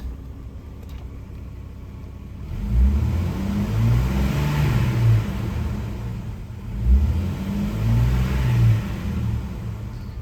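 The warmed-up engine of a 2001 Jeep Cherokee XJ Sport 4x4 runs with a deep, steady idle rumble, close by, swelling twice into brief revs before settling again.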